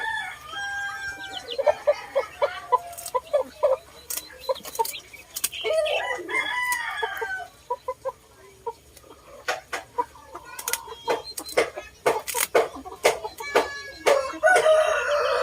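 Backyard chickens cluck steadily with a rooster crowing at intervals, loud and close, with sharp bursts from the birds throughout.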